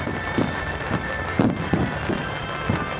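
Fireworks explode at the Nagaoka display in Japan, a series of muffled booms and crackles over a dense wash of crowd and ambient noise, several bursts spaced irregularly.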